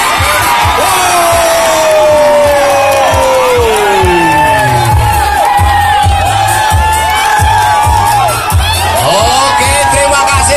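A loud village crowd cheers, whoops and shouts continuously at a greased-pole climbing contest during an Independence Day festival, with an announcer's voice over the dense, sustained roar.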